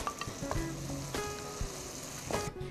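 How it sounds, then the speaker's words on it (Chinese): Cat-ear noodle pieces for a mashi noodle dish are stir-fried in a wok, sizzling steadily with a few sharp clinks and scrapes of the spatula against the pan. "将猫耳朵下锅以后炒制一下，再加入少许的水稍微烩一下"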